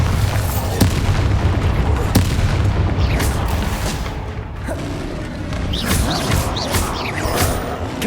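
Repeated booming spell blasts from Bombarda in the Hogwarts Legacy video game, several heavy thuds and crackling bursts over a continuous low rumble of combat, loud and close throughout.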